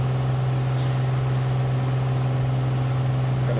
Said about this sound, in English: I hope the engine sounds are not too loud for you guys.